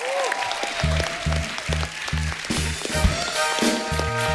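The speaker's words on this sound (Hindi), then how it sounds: "सो आपकी जोरदार तालियां होनी चाहिए ताशी और नुंशी।" Studio audience applause for guests Tashi and Nungshi on a Kapil Sharma comedy show, a steady wash of clapping running the whole stretch beneath a repeating low musical beat.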